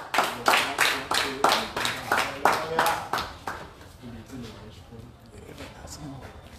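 Church congregation applauding Jesus Christ during an evening gospel service, steady rhythmic clapping that is fairly loud at first then fades and thins out, with voices speaking over it.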